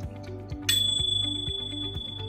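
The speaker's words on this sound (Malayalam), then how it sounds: "ഓഫ് ആകുന്നത് ആ ഒരു ബെൽ ശബ്ദത്തോടെ ആയിരിക്കും" Water heater timer switch in a bathroom reaching zero and turning off, ringing a bell in a sharp, sustained metallic ring with rapid clicking pulses, loud and close, alone without voices.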